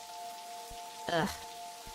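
Rain falls steadily in the game Necrobarista, a soft, even patter, while a voice lets out a brief grunt over it and a faint tonal hum sits underneath.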